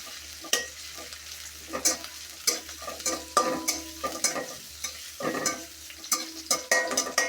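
Chopped onion and green chilies frying in a pan for okra bhaji while a spatula scrapes and clatters repeatedly, irregular close knocks over a continuous soft sizzle.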